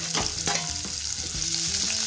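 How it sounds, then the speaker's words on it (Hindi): Finely chopped medium onion frying in mustard oil for a spinach kofta curry, a close, steady sizzle broken by the sharp scrape of a spoon stirring the pan. "हम एक छोटा मीडियम साइज का प्याज काटे हैं, बारीक बारीक है तो वो डाल देते हैं।"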